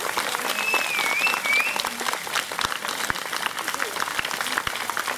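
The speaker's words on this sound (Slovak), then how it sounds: "Dovolte mi veľký potlesk a privítajme medzi nami pána Lubomíra Feldeka." An outdoor crowd at a park bench unveiling in Sliač claps to welcome Lubomír Feldek, a steady, moderately close patter of many hands lasting several seconds, with a brief whistle and some voices mixed in.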